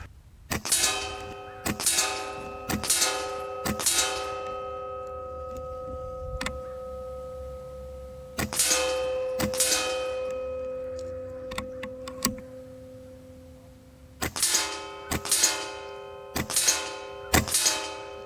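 Air Arms S510 air rifle fires about ten sharp, ringing shots in spaced groups, each with a metallic clang and decaying ring, close and loud with quiet pauses between.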